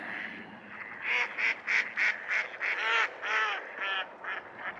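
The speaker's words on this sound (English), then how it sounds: "look at all those ducks" A busy flock of ducks calls near the water in Illinois on a late-January day, a run of rapid quacks and honks stacked together, fairly close and steady over a constant outdoor hiss.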